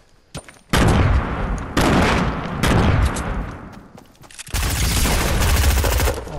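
Loud bursts of gunfire and pump shotgun blasts in Fortnite, with several dense volleys close by and brief gaps between them, running almost the whole time.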